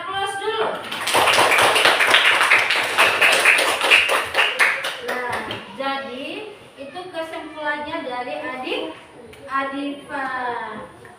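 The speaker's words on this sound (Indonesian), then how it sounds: "berikan aplaus dulu" A class audience applauds with a burst of quick, bright clapping lasting several seconds, then the clapping thins out as children's voices and an adult speaking take over.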